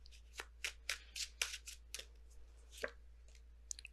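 Tarot cards are shuffled in quick, crisp riffling flicks and taps, close but fairly soft, over a low steady hum.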